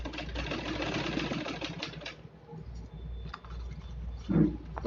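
A sewing machine stitching fabric runs with a steady buzzing whir for about two seconds, then falls to quieter clicks and handling sounds with a brief thump near the end.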